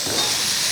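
Banana stem pickle stirred in a frying pan, a steady close sizzling hiss with faint scraping, alone without talk.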